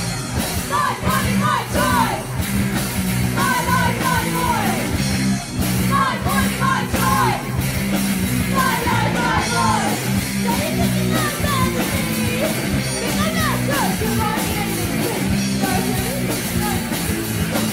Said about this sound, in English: I want everyone in the tent to fucking scream as loud as they fucking can